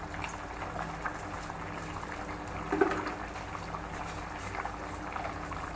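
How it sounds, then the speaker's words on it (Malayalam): Water boils steadily in a pot of chicken pulao, a continuous low bubbling with a brief louder burble midway. There is no talking. "ഇത് നല്ലപോലെ തിളച്ചു"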